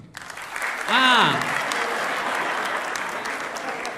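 An audience applauds together, a burst of clapping with a loud shout near the start that carries on steadily in a sustained wash, with some voices mixed in.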